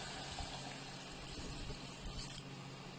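Water being poured into a pot of beef nihari, about 1.5 liters, giving a steady, continuous gushing and splashing close by with no talk.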